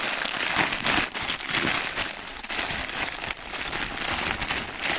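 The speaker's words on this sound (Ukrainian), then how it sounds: "Намагатимусь не скрипіти тут, не шарудіти дуже пакетами, але без цього ніяк." Plastic packaging of a pack of thirty pairs of short socks rustles and crinkles continuously up close, loud and busy with no speech over it.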